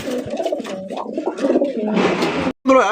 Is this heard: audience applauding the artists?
no